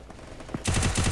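A loud, rapid burst of gunfire erupts in the mobile shooter game Free Fire after a brief quieter moment.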